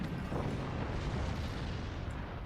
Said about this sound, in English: Cannon straight to the core.